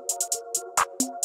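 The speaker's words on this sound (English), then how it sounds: "See, that counter clap just comes in real nice." Sharp claps land in a steady rhythm over a sustained synth tone, with a louder doubled hit near the end; no voices.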